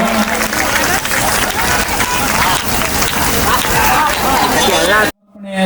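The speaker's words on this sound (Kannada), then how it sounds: "ಎಲ್ಲರೂ ಒಂದು ಸಲ ಚಪ್ಪಾಳೆಯನ್ನು ತಟ್ಟಬೇಕು" A crowd applauds at a temple inauguration in Masabinal village, steady dense clapping with cheering and babble for about five seconds before it cuts off abruptly.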